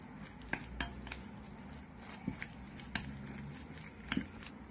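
Trout and sauce stirred together in a bowl, giving faint scattered clinks and scrapes of a utensil against the dish, quiet and close with no voices.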